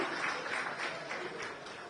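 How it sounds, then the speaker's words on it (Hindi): Steady applause from an event audience in India, a dense wash of clapping that holds at an even level throughout without rising or breaking. "एक बार जोरदार तालियां भाई सभी के लिए।"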